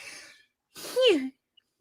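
A man vocally imitates a big rugby player's sneeze: a brief breathy build-up followed by a loud, sweeping, drawn-out nasal burst, close to the mic.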